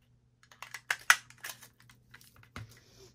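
Scissors slice through a piece of heavy scrap paper in a crafting setting, giving a string of short crisp snips and crunches at close range, with no talking.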